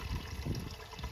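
Water runs and splashes into a bucket, a short close trickle heard alone.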